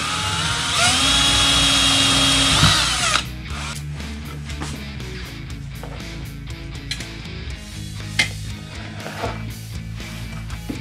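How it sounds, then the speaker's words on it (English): A power drill whines steadily while boring a hole in a steel nut, the motor pitch dropping under load, then breaks into rough, chattering grinding with irregular knocks as the bit cuts the metal. "So what I'm gonna be doing is drilling a hole, putting a bolt through"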